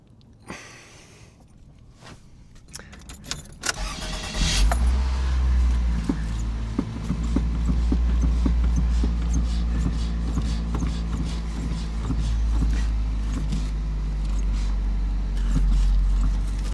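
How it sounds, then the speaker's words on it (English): A 1998-2002 Toyota Corolla engine starts after some faint clicks and settles into a steady, loud, low idle that holds to the end of the clip. "just start up the car and see what happens"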